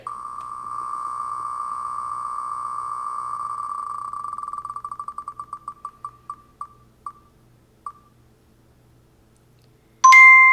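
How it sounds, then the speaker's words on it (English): A spinner wheel spinning to pick a book, sounding as a rapid steady ticking tone that slows into spaced clicks and stops, then a bright chime rings out at the end. "Now we're going to do the third spin."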